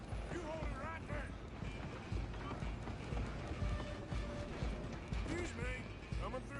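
A train in Red Dead Redemption 2 rumbles along with rhythmic clattering wheels and mechanical knocks, mixed with galloping hooves and voices talking over it.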